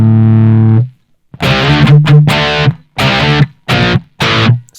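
Loud distorted electric guitar through Guitar Rig software plays a sustained note, then a series of choppy chords with brief gaps between them, heavy effects on the tone.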